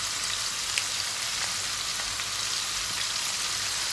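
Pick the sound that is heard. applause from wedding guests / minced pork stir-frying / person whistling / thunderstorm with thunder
minced pork stir-frying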